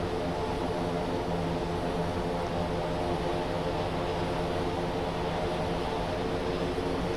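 Propeller engine of the Thranda Quest Kodiak in the X-Plane 12 flight simulator drones steadily, a loud, even turboprop hum with no speech.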